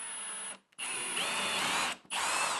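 A power drill whines steadily, boring shelf pin holes through wood with a drilling jig in two bursts separated by a brief pause, close and loud.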